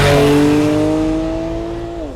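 A 2015 Porsche 911 Carrera GTS engine sounds close and loud, a rising tonal howl with steady harmonics that swell as it revs, then ease slightly toward the end.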